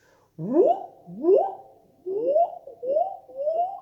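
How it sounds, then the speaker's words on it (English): A voice sings a series of five short rising glides in the vocal flageolet register, a light, flute-like tone, each swooping upward, solo with no accompaniment. "The vocal flageolet sounds like this."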